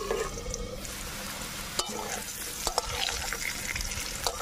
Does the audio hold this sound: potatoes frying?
yes